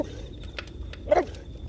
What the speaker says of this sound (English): Big dog coming through.